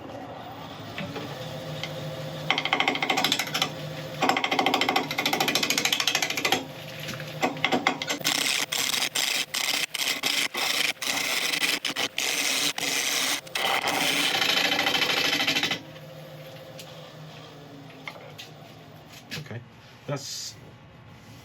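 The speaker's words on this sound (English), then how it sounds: "I've sharpened up a 1/2 inch record power bowl gouge, and we're going to be turning about 750 RPM." A burl spins on a wood lathe at about 750 RPM while a half-inch Record Power bowl gouge cuts it, giving a steady, close scraping and rasping broken by rapid ticking bursts and short pauses.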